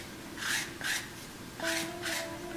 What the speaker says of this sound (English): I'm going to come in with my gourd scraper.